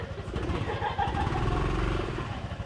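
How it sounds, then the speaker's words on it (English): A super sidecar motorcycle on an Ethiopian mountain road hums with a steady, low engine drone that stays continuous and fairly close. "Oh, we've got a driving super sidecar."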